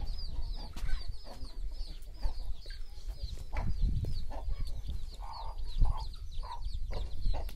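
Roosters kept together in partitioned pens on a poultry farm cluck and call repeatedly, a busy overlapping chorus of bird voices at moderate distance with low background rumble and no speech.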